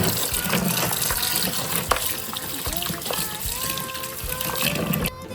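Water pours and sloshes as long mussels (khube) are rinsed, with clinking shells and splashes; a voice talks intermittently.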